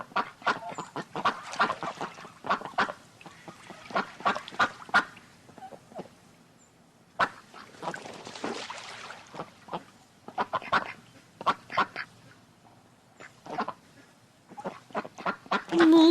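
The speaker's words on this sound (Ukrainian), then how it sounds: "Звичайно, це була качка." Ducks quack busily in rapid, overlapping bursts, loud and close, with brief lulls between flurries of calls.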